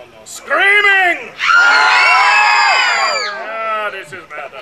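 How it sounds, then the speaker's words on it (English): Loud screaming and shrieking from a children's audience at a live science show, a sustained chorus of high excited voices rising in bursts, fading briefly and then swelling again. "No! Screaming!"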